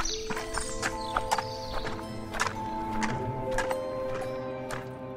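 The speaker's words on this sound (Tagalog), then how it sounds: "nakakarinig ako ng malakas na halinghing na nagmumula sa mga kakaibang nilalang" Horse whinnies and neighs recur over steady hoofbeat clip-clops, close and fairly loud, an audio drama effect set in a forest, with no talking.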